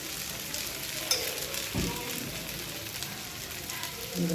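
Handva batter cake frying in a pan with a little oil added, giving a soft, steady sizzle with a faint stirring scrape; fairly quiet and close, no talk.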